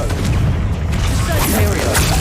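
A Confringo blasting spell explodes in the video game Hogwarts Legacy, a dense, continuous low boom with rumbling crackle filling the whole short moment, loud and close.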